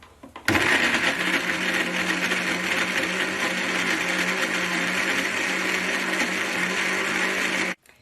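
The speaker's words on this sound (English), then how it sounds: "And I blend this together, so I apologize for the noise that's going to follow." A blender mixing soap ingredients starts abruptly and runs at a loud, steady whir for about seven seconds, then cuts off sharply.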